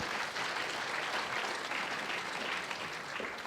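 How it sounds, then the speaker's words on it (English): An audience at a Zurich film festival master class claps in a dense, sustained burst of applause, full and even from start to finish with no voices over it. "Another big round of applause for Susie."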